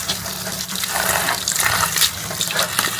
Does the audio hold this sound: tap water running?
yes